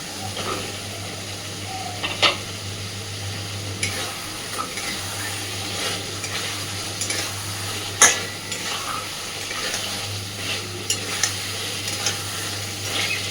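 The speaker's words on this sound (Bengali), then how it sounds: "এইবার দিয়ে দিচ্ছি ভেজে রাখা পটল" Fried pointed gourd is added to a pan of a vegetarian fenugreek curry and stirred, giving steady scraping and sizzling with a few sharper spatula knocks over a constant low hum.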